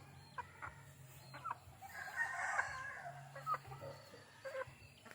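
A large straight-comb rooster among chickens gives faint clucks and a soft crowing call, with scattered bird noises in the background.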